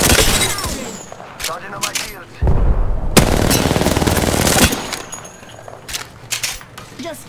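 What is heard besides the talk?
gunfire in a video game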